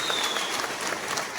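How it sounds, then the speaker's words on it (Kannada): Steady audience applause at a felicitation ceremony honouring an IPS officer, dense and continuous clapping from a crowd throughout, with no break. "ಚಪ್ಪಾಳೆ ಮೂಲಕ ಧನ್ಯವಾದ"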